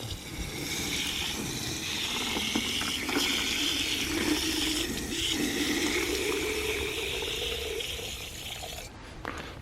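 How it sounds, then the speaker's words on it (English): Water pours steadily into a plastic bottle for several seconds, a continuous rushing fill that ends abruptly near the close. "Now I put some water in, fill it up."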